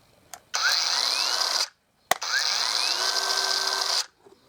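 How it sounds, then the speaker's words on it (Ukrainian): A Procraft PKA 44 cordless mini chainsaw with soft start spins up with a rising whine and runs briefly, stops, then starts again and holds a high buzzing run before cutting off, loud and close. "Бачите, працює плавний пуск"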